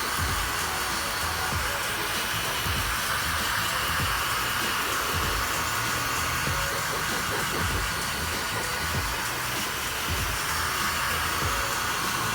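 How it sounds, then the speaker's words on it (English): A heat gun blows a steady, loud hiss over vinyl wrap on a Mitsubishi 3000GT car panel, running continuously and close-up with no talk. "I'm just gonna hit it with a little bit of higher heat, post heat it"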